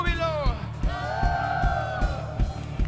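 A church congregation raises joyful shouts and whoops, several voices calling out together over a steady low rumble of music, with rhythmic bursts and a sustained rising cry through the middle.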